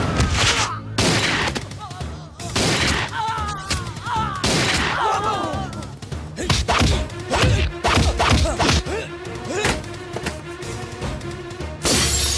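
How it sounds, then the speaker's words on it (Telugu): Gunfire rings out in a Telugu movie scene: a loud, chaotic string of sharp bangs and crashing, shattering impacts over about twelve seconds, mixed with voices and background score. "అక్కడ కాల్చు"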